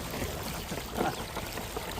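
Floodwater runs along a road in Thailand, a steady low rushing wash with no clear breaks and no voices.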